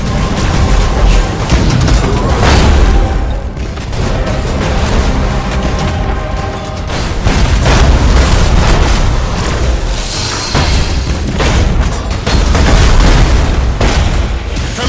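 Thunderhawk bombardment in the space strategy game Battlefleet Gothic Armada 2 sets off loud, overlapping booms and deep explosions that rumble continuously and close up, with sharper bursts punctuating the barrage and no talk.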